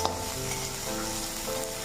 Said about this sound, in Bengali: এখন আরো 5 মিনিট ভেজে নেব লবণ দেওয়ার পর